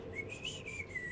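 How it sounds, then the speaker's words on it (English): A person whistles while rowing a boat, a steady sustained tune with a slowly wavering pitch over a low background, no talking. "I start rowing, and I whistle as I go."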